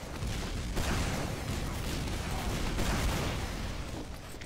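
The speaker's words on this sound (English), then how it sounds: "I'm just putting some rockets down so the scouts don't follow him" Soldier's rockets fire and burst in the Team Fortress 2 video game, a dense, continuous barrage of booms and blasts layered over constant gunfire and game noise throughout, loud and close with no pauses.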